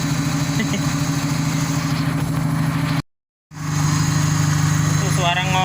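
A car engine idles with the AC compressor running after a compressor oil change, a steady close hum and throb that cuts out briefly, then resumes with a voice speaking over it.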